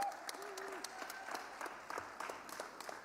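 An audience applauds graduates at an executive education graduation ceremony with steady, scattered clapping that sounds faint and distant, and a few voices are mixed in.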